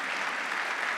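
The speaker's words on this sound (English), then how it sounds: "Give them both a big round of applause." Applause from a conference audience at a satellite industry event, a continuous dense patter of many hands filling the room at an even level throughout.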